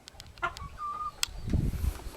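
Chickens cluck and squawk close by in short, uneven calls, with scuffling noise rising toward the end.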